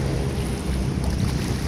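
Large jet skis run on the open sea of Manila Bay, heard as a loud, steady engine drone mixed with wind buffeting and wave wash, with no talking.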